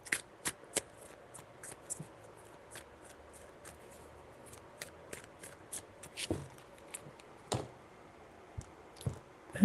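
Tarot cards are shuffled by hand in soft papery riffles and flicks with sharp clicking taps between them. The sound is quiet and close, comes in irregular bursts, and has no talking over it.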